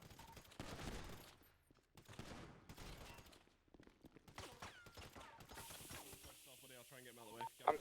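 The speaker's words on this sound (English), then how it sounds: "there's loads of shots going on the inside" Video game gunfire in GTA V roleplay: bursts of shots and scattered cracks from a firefight inside a building, fairly faint and mixed under excited player chatter, with electronic beeps near the end.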